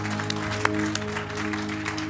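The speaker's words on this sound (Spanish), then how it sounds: "Un aplauso al Señor." Church congregation claps briefly, a soft scattered patter of hands over a steady sustained musical drone in the room.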